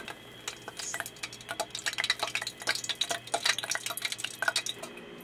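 Water drops hitting hot oil in a deep fryer, giving a dense run of sharp crackling pops that builds and stays steady, close up with no talking.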